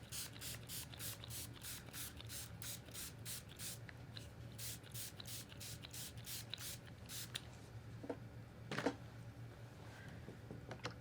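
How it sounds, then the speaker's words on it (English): A spray bottle spritzing water onto a painting, a rapid run of short soft hisses in quick succession, then a pause and a couple of isolated sprays, faint and close in a quiet room. "where is my spritz bottle?"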